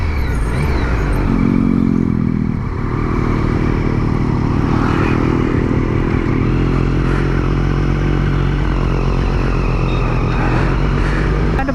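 Triumph Street Triple RS motorcycle ridden along a road near a toll plaza, its engine a loud continuous drone mixed with wind roar, heard close up throughout with no talking.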